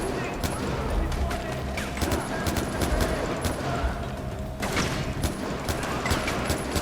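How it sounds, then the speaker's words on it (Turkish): Dense rapid gunfire from the Far Cry 4 video game crackles in sharp repeated bursts over constant game noise, loud and close, with a voice talking over it. "Kafasına ateş ediyorum."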